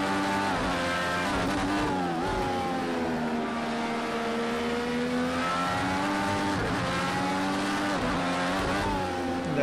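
Formula Indy race car engine in Project Cars 2, a steady high-pitched howl held at high revs with slight pitch dips at shifts, loud and continuous, tyres faintly squealing beneath.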